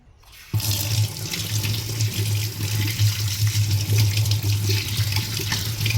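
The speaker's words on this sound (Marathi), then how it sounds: "पहिली बटाट्याची कापा धुवून घेते मस्त" Tap water runs steadily into a sink as potato slices are washed under it, a loud continuous splashing that starts abruptly and holds without pause.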